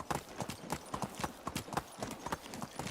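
Hooves of a ridden horse clip-clop in the video game Medieval Dynasty, a quick, even trot of crisp, close hoof strikes that keeps going without a break.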